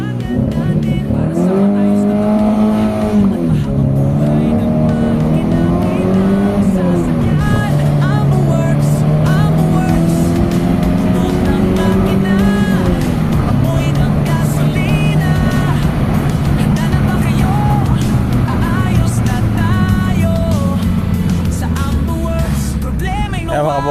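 Engine of a Toyota GLi car on a test ride after repair for stumbling in third gear and poor pulling, heard from inside as a steady drone rising and falling through gear changes, loud and continuous.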